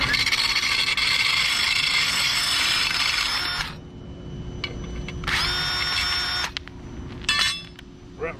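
A drill-powered sharpener grinds a lawnmower blade in loud, harsh bursts of drill whine and scraping, first a long run, then shorter ones separated by quieter gaps, close up.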